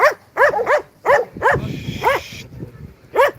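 German shepherds bark at a dog show in Bursa, a close, loud series of sharp barks in a steady rhythm, about seven in three seconds, with brief crowd noise behind.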